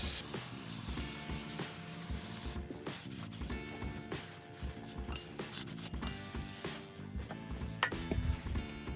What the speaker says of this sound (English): a little bit of brake cleaner